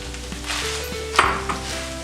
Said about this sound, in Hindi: और इसमें ये दाल डालेंगे और उसमें डालेंगे गुड़